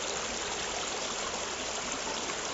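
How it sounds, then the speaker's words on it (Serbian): Murky grey mine waste water laden with chemicals and heavy metals pours steadily from an outflow at the Čukaru Peki mine near the Timok river, a constant close rushing stream with no voices. "Odavde ide ova mutna, siva voda, otpadna voda, prepuno koje kakvih hemikalija, ko zna kakvih teških metala."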